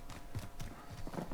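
Two sets of footsteps in a first-person shooter video game, Call of Duty Warzone Rebirth solos, sounding as a quiet run of soft, uneven thuds and scuffs close by.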